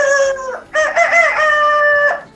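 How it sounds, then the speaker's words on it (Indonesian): A rooster crows loudly and close by as a morning sound effect for a children's story, two drawn-out cock-a-doodle-doo calls in quick succession with no talk over them. "Ayam pagi itu berkokok bersaut-sautan."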